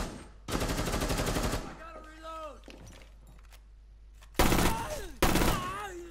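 Gunfire in the video game Rainbow Six Siege: a loud sustained automatic burst, a pause filled by game voice sounds, then two more short rapid bursts near the end.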